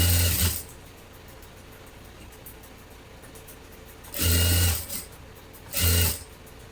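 An electric sewing machine stitching a lined blouse, running in short bursts: one at the start, then two more near the end, with a quiet pause between them.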